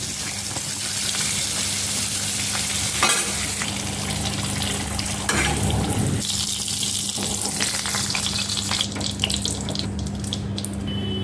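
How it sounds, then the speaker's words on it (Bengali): Pointed gourd frying in hot oil while being stirred, a steady, loud, close sizzle with occasional scraping and clatter from the stirring, and no talking. "এই পটলগুলোকে নেড়ে চেড়ে ভালো করে আমি ভেজে নেব।"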